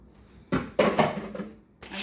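Meatloaf mixture dumped into a pan in a home kitchen: a few soft, wet thuds and scraping slaps across about two seconds, close and moderately loud, with no talking.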